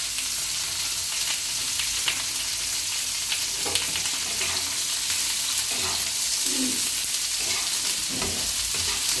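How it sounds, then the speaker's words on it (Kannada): Cut paneer pieces frying in a couple of spoons of oil, giving a steady, close sizzling hiss with occasional stirring scrapes and no talking. "ಆಯಿಲಲ್ಲಿ ಈ ಥರ ಫ್ರೈ ಮಾಡ್ಬೇಕು"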